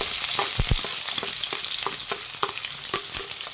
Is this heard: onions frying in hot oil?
yes